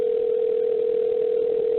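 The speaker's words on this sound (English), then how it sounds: "Yeah, it's ringing." A steady, unbroken telephone tone on an outgoing call holds at an even level from start to finish, with no voices.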